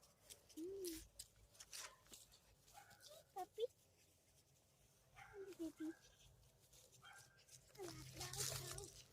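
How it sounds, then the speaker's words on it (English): A dog whimpers and pants in short high whines while moving around close by in a cemetery, with a person talking over it and rustling footsteps. "Get off of me, you crazy dog."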